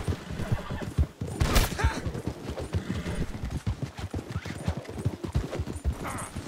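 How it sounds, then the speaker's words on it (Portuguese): A horse gallops hard in Red Dead Redemption 2 Online, with rapid clip-clop hoofbeats running steadily up close, a sharp whinny early on, and no talk over it. "Vamos, cavalo miserável, corre."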